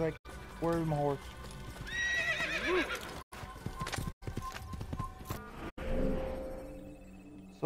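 In the Assassin's Creed video game, a horse whinnies in several rising and falling bursts over clip-clopping hooves, with a voice and other game sounds mixed in and brief dropouts of silence.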